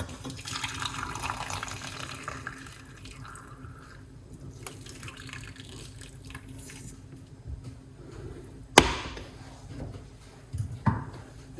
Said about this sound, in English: Pour it off.